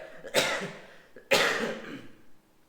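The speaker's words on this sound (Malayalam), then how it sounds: "ചെറിയ ചുമയുണ്ടേ, അപ്പോൾ നിങ്ങൾ കുറച്ചും കൂടെ ക്ഷമിക്കണം" Two distinct, fairly close coughs about a second apart in a quiet room, each a sharp burst trailing off, with a faint throat sound between them.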